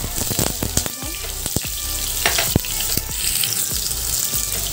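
Chopped ingredients frying in hot oil in a pan for keema fry, a loud dense crackling sizzle with scattered pops and stirring clicks, close up and without talk.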